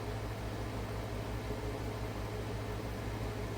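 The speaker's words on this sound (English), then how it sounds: "you can probably hear my air conditioner in the background" An air conditioner hums steadily in a room, a constant broadband whir with a low droning undertone that stays even throughout, with no talking.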